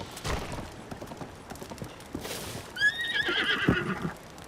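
A horse whinnies loudly in Zelda: Breath of the Wild, preceded by scattered hoof clip-clops and shuffling, with the neigh rising clearly near the end; no one speaks.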